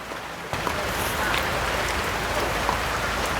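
Steady rain falls outdoors as a dense, continuous hiss of drops hitting surfaces, close and fairly loud, with no voices over it.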